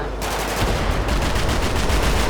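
Rapid, loud gunfire rattles continuously at a mini tank in a GTA V mod, a dense burst of shots that runs for the whole short stretch with no talk.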